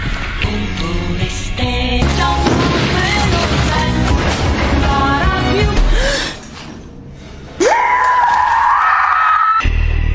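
A monstrous mother creature in a film lets out a harsh scream amid dense crashing, booming chaos, then a piercing rising shriek holds loud and steady near the end.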